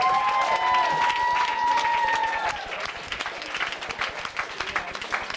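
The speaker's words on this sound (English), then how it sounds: "give yourself a round of applause" A crowd at a 2003 live show in DC breaks into loud applause with a whistle riding over the start, then thins to scattered claps and some cheering.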